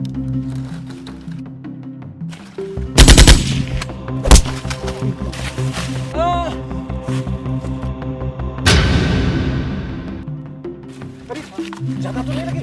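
Several sharp, loud gunshots crack out at irregular intervals, followed by a long ringing burst, amid a busy, noisy background.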